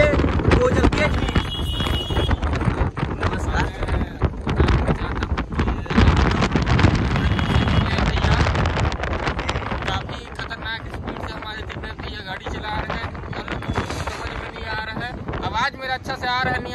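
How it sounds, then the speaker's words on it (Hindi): Strong wind buffets a microphone outdoors during a sound-system check, a loud, roaring rumble with gusty swells that eases somewhat toward the end, with voices faintly mixed in. "क्योंकि बहुत ही तेज हवा बढ़ रहा है, हवाएं आती है"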